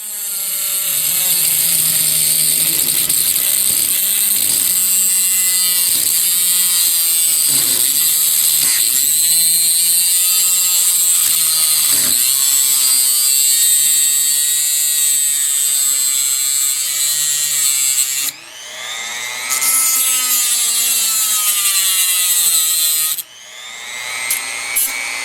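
A DEPSTECH rotary tool cuts steadily, giving a loud, high-pitched whine that holds for about twenty seconds. Its pitch wavers as the bit bites, and it briefly drops out twice near the end.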